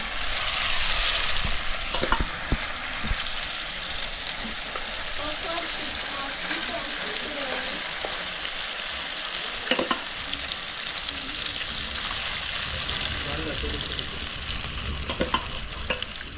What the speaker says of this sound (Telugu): ఆయిల్ అయితే బాగా వేడెక్కింది అదిగో మనం రెడీ చేసుకున్న చేప ముక్కలు అయితే పకోడీకి రెడీ చేసి వేసేస్తున్నాము